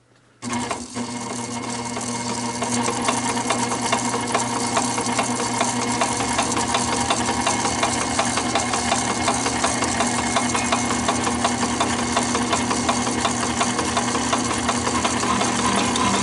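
A die filer notches metal brackets in a home machine shop, running as a steady, loud, fast mechanical chatter that starts abruptly after a brief quiet moment and continues evenly throughout.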